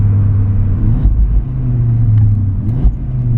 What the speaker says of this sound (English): Oh man, you can hear the intake, and stock, by the way